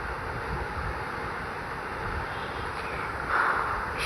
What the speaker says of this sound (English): The wind must be strong outside.